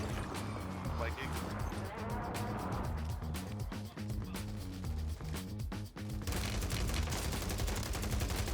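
Gunfire in the Warzone video game, with a battle going on outside: sharp bursts and single cracks recur throughout over a steady game music bed, with a dense, louder stretch of shots near the end.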